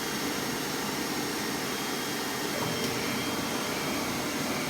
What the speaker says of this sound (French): L'aspirateur, je vais démarrer ma sableuse.